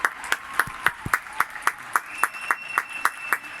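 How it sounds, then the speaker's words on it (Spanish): Healthcare workers in Valencia are honored with rhythmic clapping: steady, evenly spaced claps repeat about five times a second, fairly close and loud, with faint voices in the background. "por todos aquellos que están aplaudiendo por vosotros"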